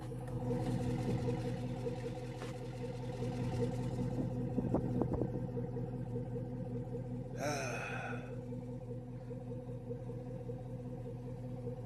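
A GMC Yukon Denali with a stock engine, from the 2000 to 2006 generation, idles with a steady low rumble close by, while a brief breathy vocal sound rises near the middle.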